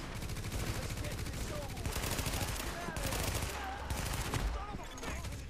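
Rapid automatic gunfire from the video game Tom Clancy's The Division, dense overlapping bursts of shots continuing throughout at a fairly low level, mixed with other game effects.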